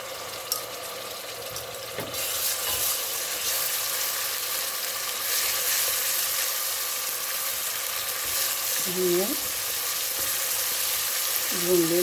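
Ginger garlic paste sizzles with onions in hot oil for an aloo gosht (mutton and potato curry), giving a steady close frying hiss with occasional stirring scrapes and a few brief tonal chirps late on.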